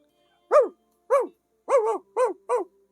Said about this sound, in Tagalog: Agtataol di aso na